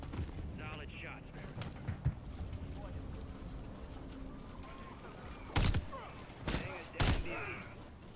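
Unsilenced gunfire in the Modern Warfare 3 campaign, heard as a few sharp, loud bursts near the end with game background noise and a voice talking throughout.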